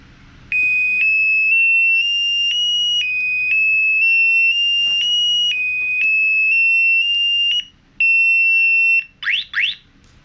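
Bike alarm on its Find Me setting sounds a loud, steady high-pitched electronic tone held for several seconds with slight pitch steps, a short break, then a final stretch and two quick chirps.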